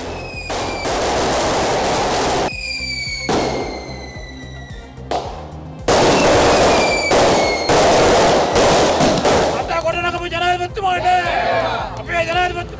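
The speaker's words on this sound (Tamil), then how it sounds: "பண்டாரகம மாலபே மற்றும் காலி போன்ற இடங்களில் அதிகளவில் பட்டாசு கொளுத்தப்பட்டுள்ளது" Firecrackers set off in celebration of the president's speech in Sri Lanka, long loud crackling volleys with sharp rapid bursts, briefly pausing before resuming, with crowd noise and voices rising near the end.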